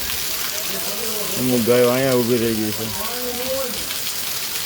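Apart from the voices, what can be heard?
rain falling in the village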